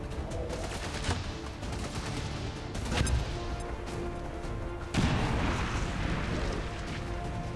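A grenade detonates in the strategy game XCOM 2 with the Long War 2 mod, producing loud blasts of broadband rumble and crackle, including a sharp hit and a heavier burst with a lingering roar over continuous game noise.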